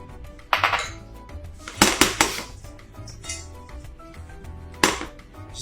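Walnuts are tipped into a hot pan for toasting, giving a few sharp clattering rattles and clinks against the metal at irregular moments, with quieter shuffling between the bursts.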